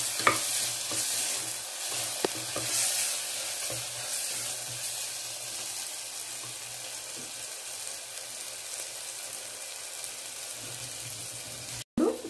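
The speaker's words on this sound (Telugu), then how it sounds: "మసాలా యాడ్ చేసుకొని ఇందులో ఒక ఒక టూ మినిట్స్ అలాగా స్మెల్ పోయేంత వరకు వేయించుకోవాలన్నమాట" Masala for vegetable pulao fries in a pan while being stirred, a steady, fairly quiet sizzle with occasional scraping knocks running the whole way without talk.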